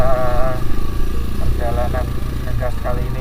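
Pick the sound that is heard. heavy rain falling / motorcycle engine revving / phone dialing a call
motorcycle engine revving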